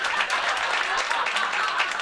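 Comedy show audience breaks into clapping, a short burst of dense, lively applause from a crowd in a live venue, heard up close and fairly loud.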